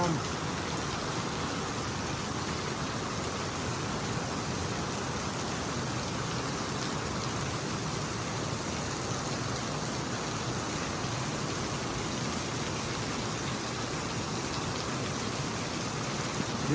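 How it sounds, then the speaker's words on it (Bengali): Heavy rain pours down steadily in Phuket, a dense, even roar of drops that holds at the same loud level throughout with no breaks. "সেই বৃষ্টি নামছে একদম।"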